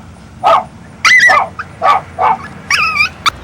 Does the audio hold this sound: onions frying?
no